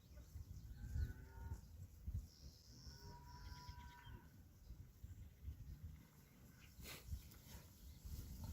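Several cows moo loudly at close range, drawn-out lowing calls repeating over a rumbling outdoor background, with faint birds chirping.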